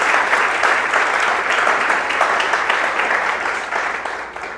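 A church congregation applauds during a joyful worship service, dense sustained clapping from many hands filling the room at even loudness, tapering slightly at the close.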